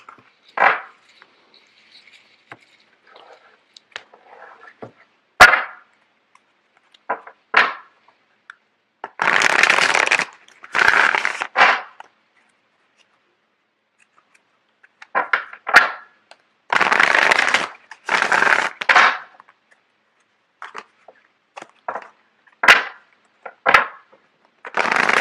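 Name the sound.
shuffling tarot cards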